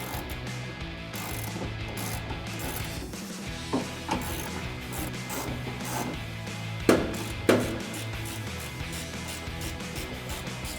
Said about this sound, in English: we're going to tighten down these 2 nuts and bolts with a 10mm socket, a ratchet, and a 21mm wrench